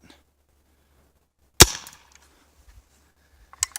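A Splatmaster paintball pistol fires once at a plate about 20 yards away, a single sharp, close pop followed by faint clicks and a softer snap near the end.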